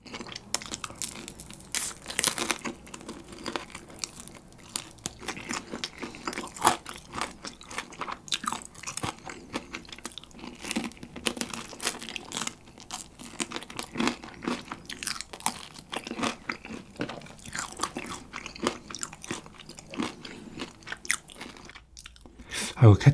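Crunchy Kyochon rice chicken, fried with a scorched-rice-like crust, eaten close to the microphone: dense, continuous crisp crunching and chewing bites throughout, with no talk.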